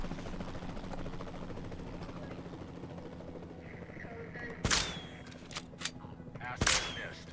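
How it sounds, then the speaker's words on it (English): Tranquilizer shots fired from a helicopter in Jurassic World Evolution 2 ring out as two sharp bangs plus a smaller pop, over a steady rotor and engine drone. "We'll start by tranquilizing one of the dinosaurs from the helicopter"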